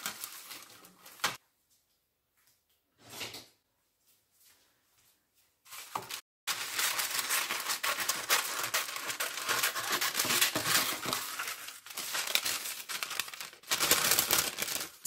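Greaseproof paper for lining a cake tin crinkles and rustles loudly and continuously close by, following a few quieter, separate handling sounds and short pauses.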